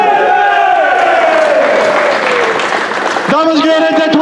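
An audience at a wrestling event claps and cheers loudly throughout, while a voice calls out over the crowd.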